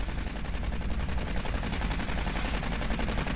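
Rapid gunfire from the video game Aliens: Colonial Marines, a steady fast automatic burst of evenly spaced shots continuing throughout at moderate loudness.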